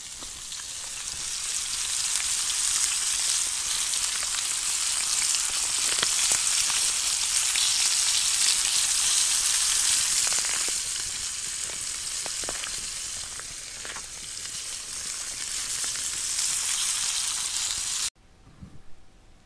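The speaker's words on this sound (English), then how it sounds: "we'll show you that fish once it gets frying" Smallmouth bass and onions fry in a pan over a campfire, a dense, steady sizzle and crackle that runs close and loud with no talk, then cuts off abruptly near the end.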